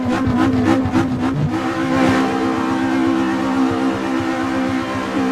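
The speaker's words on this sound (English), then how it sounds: "We've upgraded the engine in this, as you can hear." An upgraded race car engine in Assetto Corsa revs hard and loud, pulsing through several throttle blips before settling into a sustained high-pitched drone, close and continuous throughout.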